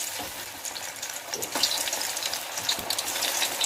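Cauliflower florets frying in hot oil give a dense, continuous sizzle that swells slightly partway through, with faint scraping underneath.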